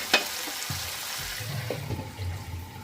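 Chicken pieces with tomato sizzle in a pan, a soft frying hiss punctuated by a sharp clink near the start and scraping stirring sounds afterward, close and moderately loud.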